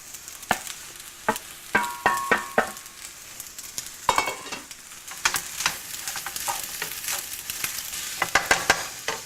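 Tomatoes go into a pan of frying Malaysian chicken pilaf, with close, steady sizzling broken by repeated sharp scraping and stirring clatters from a utensil against the pan.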